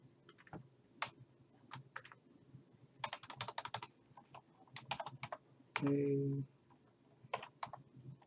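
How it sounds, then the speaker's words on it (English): Crisp keystrokes on a computer keyboard while typing a name into Microsoft Word 2019, arriving in uneven bursts of clicks, briefly interrupted by a short voiced sound. "Delete the existing author name and type"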